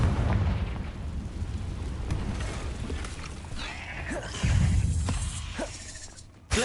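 Confringo blasting spell in a Harry Potter video game, deep booming explosive bursts with rumbling low thuds, one near the start and a stronger one midway, amid whooshing magical effects.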